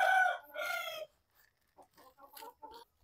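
A rooster crows loudly nearby, followed by softer scattered clucks from chickens in a quiet setting.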